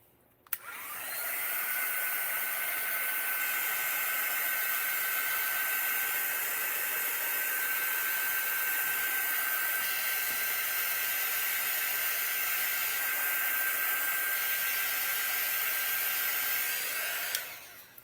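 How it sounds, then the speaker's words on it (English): A hair dryer blows on an acrylic painting of blooming tulips, switching on abruptly into a loud, steady airy roar with a faint whine that holds for about seventeen seconds before cutting off. "I'm going to hit that with the dryer real quick"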